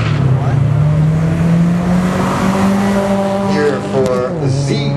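Drag racing cars launching down the strip at a Friday night drag race, engines droning loudly and climbing in pitch through the gears, then a sharp shift near the end, with an announcer talking over it.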